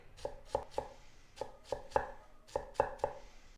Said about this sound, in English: Now I'm going to chop this garlic